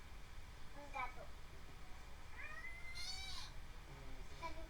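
A cat meows several times in a classroom, with rising, tonal cries rather close over a constant room hum, and people talking faintly in the background.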